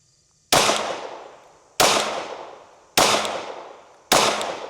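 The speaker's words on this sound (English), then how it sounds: "We're gonna put first rounds through, make sure we're good." A Glock pistol fires four loud, sharp shots at a target at roughly even intervals of just over a second. Each crack is close and is followed by a decaying echo.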